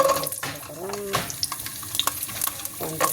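Fenugreek seeds frying in oil for a fish curry, a crackling sizzle with stirring and scattered pops and clinks, close and fairly loud, with a faint voice in the background.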